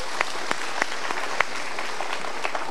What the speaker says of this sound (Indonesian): Ya, kita berikan tepuk tangan untuk beliau.